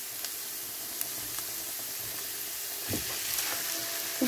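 Minced-meat kofta goes into a pan of softened onion and garlic and fries with a steady close sizzle, with a few stirring scrapes and clinks.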